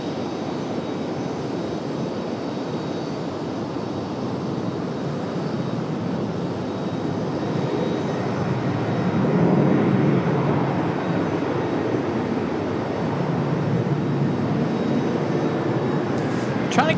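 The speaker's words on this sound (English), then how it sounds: "A nice smooth touchdown for the A321." American Airlines Airbus A321 landing at RDU airport, a continuous broad jet roar heard from a distance that swells slightly around touchdown and then holds steady.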